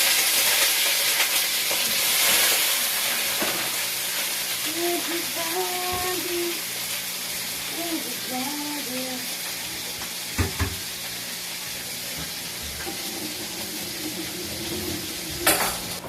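Salt-dried fish (daing), rinsed before cooking, sizzling steadily in a hot pan, a loud continuous crackle with occasional sharper pops and brief clatters of a utensil, no voices over it.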